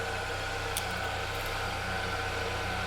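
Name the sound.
car engine idling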